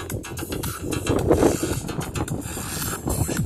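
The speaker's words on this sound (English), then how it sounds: "Oh my god, there's so much wind." Strong wind buffeting outdoors in loud uneven gusts, roaring and thumping against the microphone throughout.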